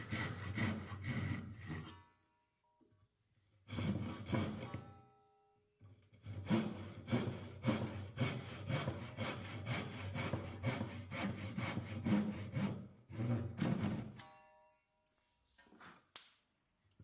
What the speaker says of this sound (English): Now I'm cutting the grooves for them to go